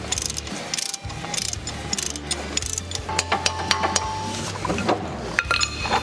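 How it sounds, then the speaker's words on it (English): A ratcheting breaker bar clicks in quick rapid bursts while loosening hub assembly bolts on a diesel truck, with metallic clinks and taps of tools close up between the runs of ratchet clicks. "just using a ratcheting breaker bar, and for the most part, especially since you've already sprayed them, they usually come off pretty easy"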